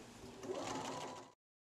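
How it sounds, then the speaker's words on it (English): Close and moderately quiet, a sewing machine runs one continuous burst while stitching a pillowcase seam, then cuts off abruptly. "make sure you back stitch all the way to the edge, and just continue down that row"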